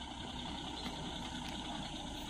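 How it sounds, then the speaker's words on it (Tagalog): A mining haul truck built for pit hauling idles steadily and loudly on a steep road near Subic, Zambales, with a continuous engine drone and no speech. "Kaya lang malakas din talaga yung makina nito."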